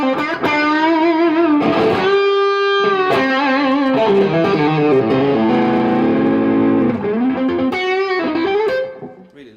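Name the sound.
electric guitar through amp overdrive channel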